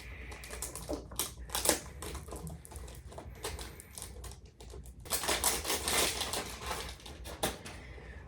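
Cardboard packaging of a perfume box is opened close by, a run of crisp tapping, scraping and crinkling sounds in uneven bursts, growing busier and louder toward the end.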